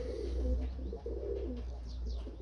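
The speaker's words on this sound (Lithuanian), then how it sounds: "paukščiai prie mineralų" Pigeons coo softly outdoors in a short, faint series of low, rounded calls against a quiet background.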